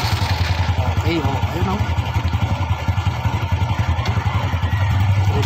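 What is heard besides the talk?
motorcycle engine starting and idling on LiFePO4 battery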